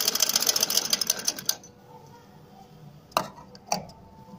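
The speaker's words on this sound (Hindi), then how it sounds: "अब इसको आपने इसके ऊपर मोड़कर और जितनी आपने कंधे की सिलाई लगाई थी उसके ऊपर दोबारा से सिलाई लगा देनी है।" A sewing machine stitches a shirt's shoulder seam in a fast, even run of clattering needle strokes for about a second and a half, then stops, followed by two sharp clicks.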